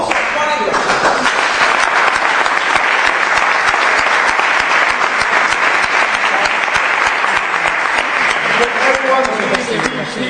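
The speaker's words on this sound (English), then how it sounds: "please join me in applauding our special guest and also applauding yourself" An audience at a public meeting with a special guest applauds in sustained, loud, dense clapping that fills the whole stretch before easing slightly at the end.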